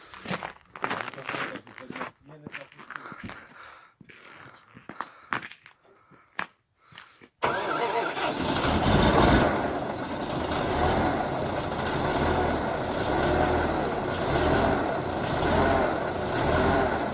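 A KhTZ 242K tractor engine makes a cold start: after scattered voices and clanks, the engine suddenly catches and settles into a loud, steady rumbling idle that continues to the end.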